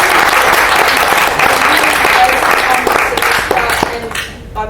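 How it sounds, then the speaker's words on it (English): Loud, sustained applause from an audience at a symposium performance, dense clapping and some cheering that tails off at the very end. "Let's give them a round of applause."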